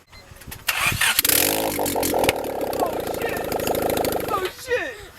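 A Honda Civic with a new exhaust cranks and catches, then settles into a loud, raspy idle close by for several seconds, with people's voices mixed in around it.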